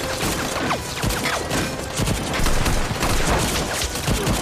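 Dense, continuous gunfire from soldiers in a film battle scene, overlapping shots and bursts crackling loudly throughout with no pauses.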